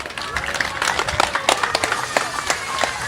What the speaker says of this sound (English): So a big round of applause for Marie.